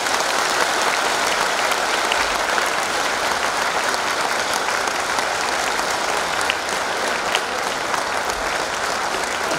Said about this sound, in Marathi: त्याने एक सुंदर टाळी वाजवा बरं